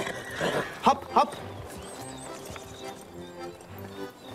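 Horse hooves clip-clopping during a ride in a fairy-tale film, a couple of sharp near hoof knocks amid background noise and faint whinnying, with people talking over it.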